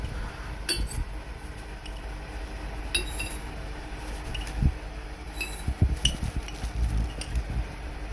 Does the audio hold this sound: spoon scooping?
yes